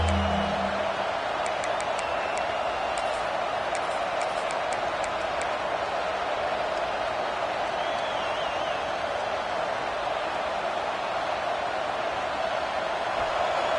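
Football stadium crowd during the early going of a game, a steady distant roar of cheering voices that holds level throughout, with faint whistle-like tones above it.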